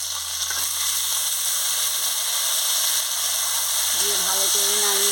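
Potato and ivy gourd pieces frying in a pan give a continuous bright sizzle, with a low hum beneath and a voice speaking briefly near the end.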